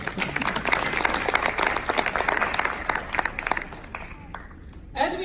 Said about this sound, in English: give yourself a clap